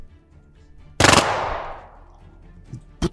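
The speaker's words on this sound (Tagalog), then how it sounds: "Putok ng mga baril yun ah." A single loud, close gunshot booms and rings out with a long decaying echo, followed by a couple of faint knocks and a short sharp crack at the end, in a dramatized tale about soldiers.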